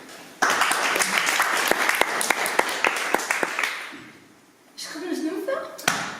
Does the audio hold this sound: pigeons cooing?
no